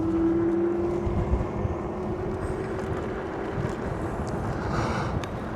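Steady broadband road roar and hum from a Ridstar Q20 e-bike's tires while riding, continuous and fairly loud with wind buffeting, a faint whine running underneath.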